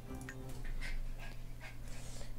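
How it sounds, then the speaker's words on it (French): A dog pants quickly and repeatedly nearby, its breaths coming in soft rhythmic bursts over a low background hum. "si vous entendez un chien qui saute et qui respire fort, c'est mon chien"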